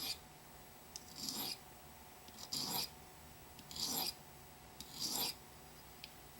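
A knife blade drawn across the coarse side of a sharpening stone, four separate gritty rasping strokes at a steady rhythm, close and fairly quiet with short pauses between passes.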